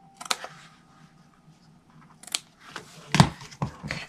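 Scissors trim paper at a papercraft bench: a few quick, quiet snips with short pauses between them, no voice.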